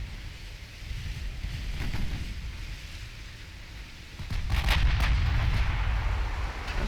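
Naval guns fire in the warship battle game Ultimate Admiral Dreadnoughts. Several muffled, distant booms roll over a windy background, and a heavier cluster of blasts lands near the end.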